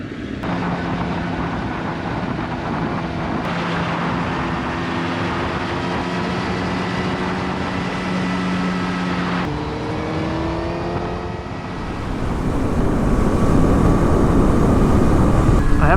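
Kawasaki ZX-10R motorcycle riding along the water on New Brunswick roads, a steady engine drone with wind rush that shifts pitch around gear changes and grows louder toward the end.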